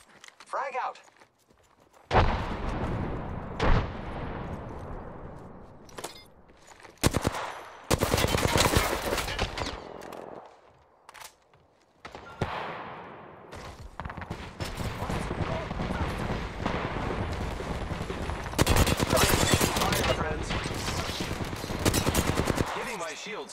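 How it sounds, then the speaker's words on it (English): Rapid video-game gunfire in automatic bursts and single shots, loud and close, with pauses between volleys while players call out over it. "Hostile spotted. Firing."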